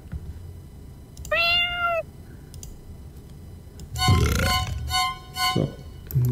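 Cartoonish cat meows from the video game Scream Collector: one drawn-out meow, then a burst of noisy game sounds with two or three more short meows near the end, fairly loud with no talk.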